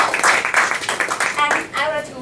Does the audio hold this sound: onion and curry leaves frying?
no